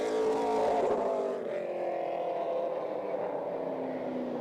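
A race car engine roars during single-car qualifying at Caraway Speedway on the CARS Tour, a loud pass that eases into a steady, fading drone.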